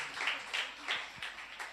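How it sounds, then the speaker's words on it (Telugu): A church congregation claps together at Sunday worship, a series of soft, fairly faint bursts of clapping repeating roughly every third of a second across the room. "గట్టిగా చప్పట్లు కొట్టి ప్రభుని స్తుతిద్దాం."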